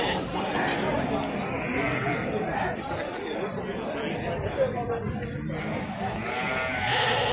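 Goat bleats from a Brazilian livestock fair, heard amid a noisy crowd with continuous chatter and people talking nearby; the animal calls rise only briefly above the busy background.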